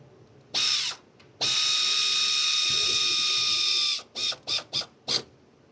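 A power ratchet snugs down the knock sensor bolt on a 2016 Hyundai Sonata, close and loud. A short whir is followed by a long steady run, then four quick stuttering bursts.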